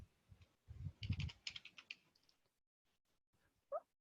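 Typing on a computer keyboard, a short flurry of soft key clicks and thumps, then quiet with a final click, faint and close, no talking.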